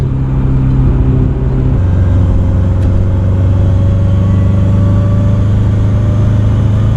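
A supercharged Subaru engine runs at partial throttle with a loud, steady drone and a whining tone that shifts in pitch as it holds on light boost.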